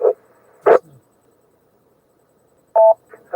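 Short amateur radio test transmission: a few brief, separate tonal bursts with silence between them, clear and fairly loud, with no speech.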